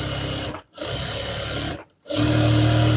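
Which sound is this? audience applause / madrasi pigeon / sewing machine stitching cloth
sewing machine stitching cloth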